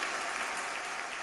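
An audience at a Zee Salaam evening of poetry and song keeps up a brief, even patter of clapping, dense and steady with no voices over it.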